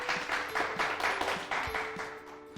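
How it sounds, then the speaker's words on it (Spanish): Applause welcomes a lizardfish guest on a children's nature lesson, heard as a steady, moderately loud wash of clapping with a low constant hum underneath. "Aplausos, por favor, es un verdadero fósil de la naturaleza."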